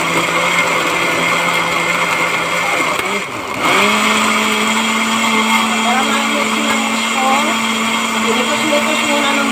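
A blender whirs steadily, blending watermelon juice, a sustained motor hum that dips briefly partway through and then resumes with a steady tone, loud and close throughout.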